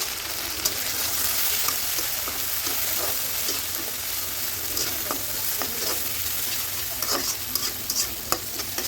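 Prawns fry in a hot pan with a steady, close sizzle and crackle, broken by frequent scrapes and clicks from stirring. There is no talking.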